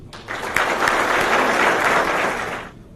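A room of lawyers at a business luncheon in São Paulo applauds the municipal justice secretary as he comes up, a loud burst of clapping that swells quickly and fades within three seconds.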